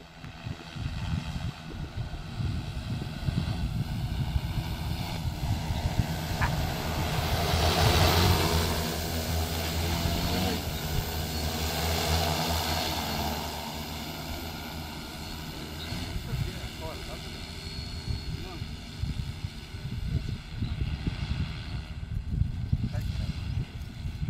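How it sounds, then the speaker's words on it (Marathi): An agricultural spraying drone flies over an onion field, its steady whirring motor drone filling the whole stretch and swelling slightly midway, with a person talking over it. "ह्या ठिकाणी हे ड्रोन चालू झालेला आहे"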